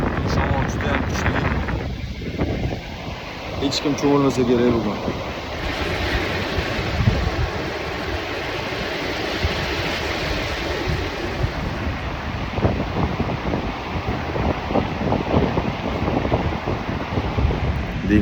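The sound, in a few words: strong wind at the seaside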